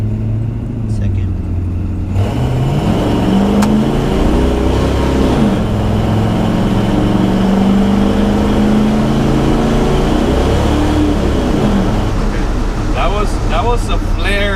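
An LS-swapped Chevrolet C10 truck engine drones steadily and loud throughout, rising and falling as it revs through gear shifts, with a person talking over it.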